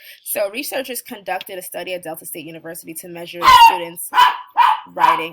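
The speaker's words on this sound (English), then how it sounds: "I apologize for my dog barking." A dog barks several times in the background, loud bursts breaking through a person's steady lecture-style talking near the end.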